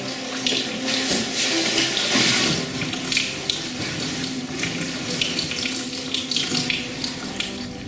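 Water pours steadily from a mineral spring tap in the Starohorské vrchy hills in winter, a continuous close splashing and gurgling that never stops.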